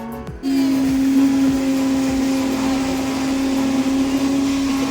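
Mixie grinder running steadily after switching on, a loud continuous motor whine that holds evenly throughout while grinding sesame powder.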